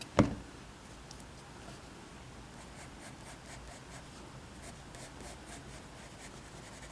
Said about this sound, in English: I have to erase a bit here, the outline.